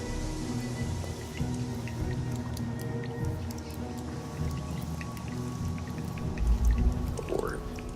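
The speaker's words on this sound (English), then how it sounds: "these dripping sounds. They do pretty well in creating a nice soundscape in this shower" Water dripping inside a shower in the video game Dishonored: Death of the Outsider, scattered light ticks and drops over a steady hum of ambient game noise, irregular and fairly close.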